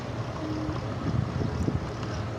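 Steady rumble of a naval launch boat moving across the water, with constant wind buffeting the microphone and low engine and water noise throughout, no voices.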